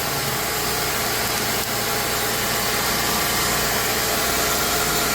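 A Porsche 986 Boxster engine idles steadily up close after an alternator repair, a smooth, even hum with no changes in speed.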